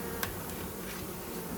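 Honey bees buzzing around an open Flow Hive during an inspection, a steady soft hum with a brief brighter burst near the start and no voices.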